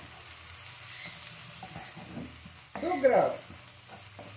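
Chopped onion frying in a thin drizzle of oil in a pan, a quiet sizzle under a short spoken phrase, with a louder scrape of stirring near the end.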